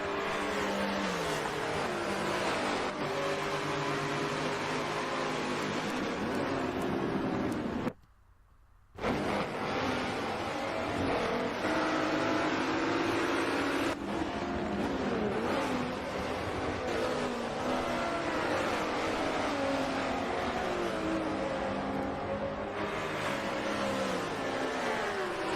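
Mercedes GT4 race cars in a racing video game at Watkins Glen give a steady, dense engine roar with shifting revs throughout, broken by one short near-silent gap.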